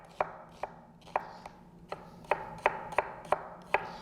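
A knife slices an onion thinly on a cutting board for a grilled cheese, about a dozen crisp, close chops at a fairly steady rhythm, each a sharp tap with a brief crunch.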